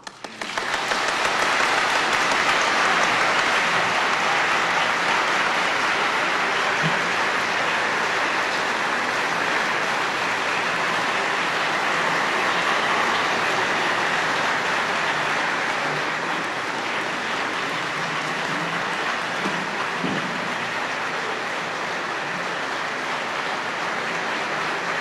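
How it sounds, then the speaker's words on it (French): Warm, sustained applause from a large audience fills the domed hall of the Académie française at a formal reception ceremony, a dense steady wash of clapping lasting throughout, with no speech over it. "chaleureux applaudissements sous la coupole de toute l'assistance"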